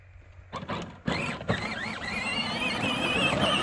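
A Power Wheels ride-on toy car converted to run on a Ryobi 18-volt battery whirs into motion after a few bumps and clicks, its electric motor settling into a steady, rising high-pitched whine.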